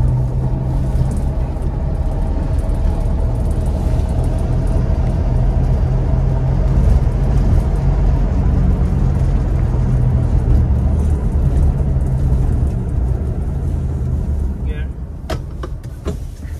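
Electric-converted VW Beetle driving along, a steady low motor and road rumble carrying through the whole stretch with faint clicks near the end; a voice talks over it intermittently.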